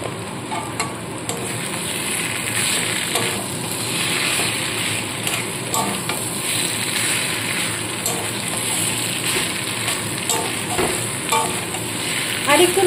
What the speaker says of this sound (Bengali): আর একটু নাড়াচাড়া করে নিয়ে এবার আমি নামিয়ে নেব।